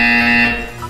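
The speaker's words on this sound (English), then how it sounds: "You will hear a buzzer." A loud, steady electronic buzzer tone sounds in the video game Portal 2, a single sustained blare lasting under a second.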